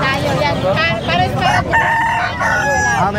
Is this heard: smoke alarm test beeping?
no